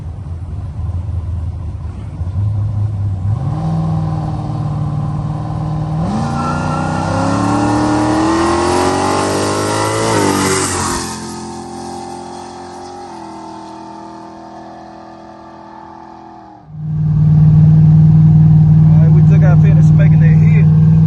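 Car engine fitted with a 950 CFM carburetor revving during a part-throttle test hit: rising revs that climb and hold, then fall back to a steady idle before a loud, lower droning note returns near the end.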